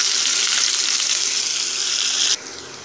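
Chopped onion frying in hot oil with tempered pepper: a loud, steady, close hiss of sizzling that cuts off sharply near the end, leaving a fainter sizzle.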